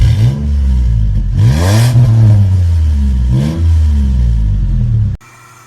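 A car engine with an aftermarket exhaust revs hard several times with a deep, throaty exhaust roar, each burst climbing and falling back before cutting off abruptly.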